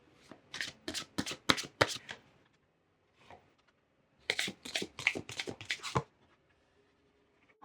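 Oracle cards shuffled for a tarot reading: two bursts of quick, crisp riffling slaps near and clear, split by a quiet pause with a faint tap, no voice over them.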